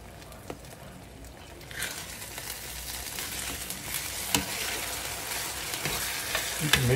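Fried corn sizzles and crackles in a hot pan as it is stirred, with steady frying hiss building after the first couple of seconds and scattered scraping clicks from the utensil, close and continuous.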